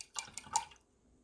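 A paintbrush rinsed in a small cup of water while painting an acrylic journal: a faint, brief sequence of light sloshes and drips lasting under a second, quiet and close.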